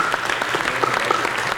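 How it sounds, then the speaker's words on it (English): Audience applause at a school district meeting, a steady wash of many hands clapping at once, close and fairly loud, with no talk on top of it. "So yes, our campuses deserve a round of applause."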